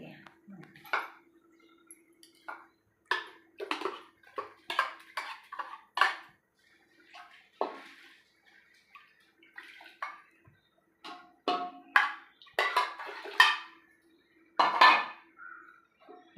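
A ladle stirs ground spice paste through a pot while homemade wheat-bran papdi is cooked, giving close, irregular scraping and metallic clinking strokes in bursts, with brief pauses and faint voice-like sound between them.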